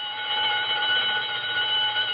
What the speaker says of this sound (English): That burglar alarm on Bernstein's first door. It always goes haywire at 7:32.